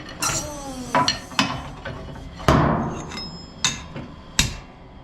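A hammer drives a flange drive seal into place with a series of sharp, ringing metallic blows at uneven intervals, each strike followed by a brief decay.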